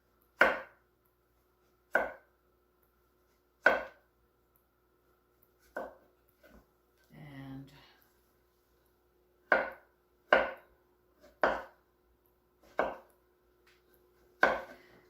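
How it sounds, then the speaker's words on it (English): Eggplants are sliced thin with a knife on a cutting board, giving sharp, evenly spaced chops roughly every one to two seconds, close and clear against silence, with a brief rustle of handling in the middle. "I like to slice them like they're apples. So very thin"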